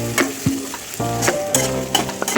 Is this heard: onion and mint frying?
yes